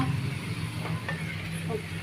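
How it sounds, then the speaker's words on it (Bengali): Chhana balls (cottage cheese balls) fry in oil with a soft, continuous bubbling sizzle and a low background hum, close and moderately quiet. "আর একটু ভাজা হোক"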